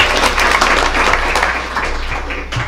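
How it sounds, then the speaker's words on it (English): School board meeting attendees applaud district staff, a steady wash of many hands clapping from a crowd that holds at an even level for the whole stretch. "Please join us in applauding these staff members for their assistance this evening."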